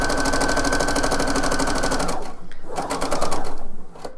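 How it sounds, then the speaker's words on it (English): A sewing machine runs steadily, stitching a quarter-inch seam on a blouse, its rapid mechanical whir loud and close for about two seconds before breaking into shorter stop-and-start bursts. "I'm going to stitch it on my sewing machine."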